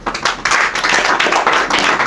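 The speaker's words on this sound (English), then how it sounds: "That's a weak clap." Scattered, light clapping from a small group at a church press conference, with uneven bursts of hand claps close by, no voices over them.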